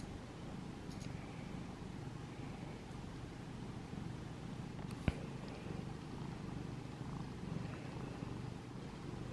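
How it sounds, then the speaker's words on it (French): A cat purrs softly and steadily at night, a faint, continuous low rumble with one brief click partway through and no voices. "Tu ronronnes."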